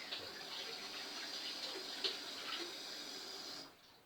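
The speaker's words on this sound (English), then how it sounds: "I'm just going to rinse this brush out over at the sink." Tap water runs steadily into a sink while a paintbrush is rinsed, a continuous close hiss and splash that stops abruptly near the end.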